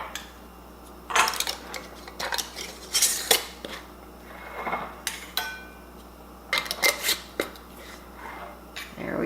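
Metal rings being screwed finger tight onto canning jars, heard as close, irregular clinks and scraping metallic twists in short bursts with quiet pauses between.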